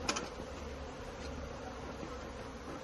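Honeybees swarm during a hive removal, a dense continuous buzzing drone of many insects close by, steady throughout with no voices.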